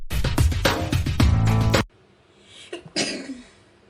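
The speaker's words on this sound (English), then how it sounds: "that's why I'm sneezing so much" A loud burst of music ends abruptly, then a person with a cold gives a few short, sharp sneezes and breaths, nearby and fairly quiet.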